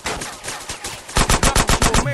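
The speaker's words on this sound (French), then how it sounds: "Hell, shoot, that was a sniper bullet." Gunfire rings out in the video game GTA San Andreas Remastered: scattered shots at first, then a loud, rapid burst of about nine evenly spaced shots close by.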